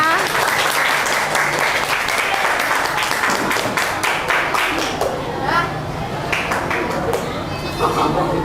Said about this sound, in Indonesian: Tepuk tangan dulu untuk keempat kelompoknya.